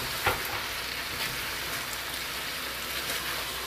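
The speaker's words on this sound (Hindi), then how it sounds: "अब हम इनको 2 से 3 मिनट भूनते हैं।" Pasta ingredients for spicy creamy chicken pasta sautéing in a pan, a dense continuous sizzle with a few small crackles and stirring scrapes, close and steady with no talking.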